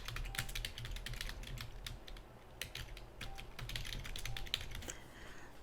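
Computer keyboard typing for a PowerPoint 2016 exercise, a steady run of close, quick key clicks with short pauses, no talking.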